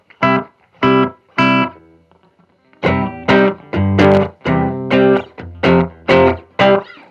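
Electric guitar through a delay pedal with reverb, a run of plucked chords and notes in separated bursts, each ringing with a trailing echo tail, loud and close with no voices.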